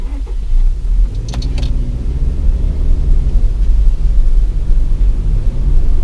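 Interior of a 2014 Subaru Legacy speeding up on the road, a steady low engine and road rumble that holds loud and even throughout, with a brief higher whine near the start.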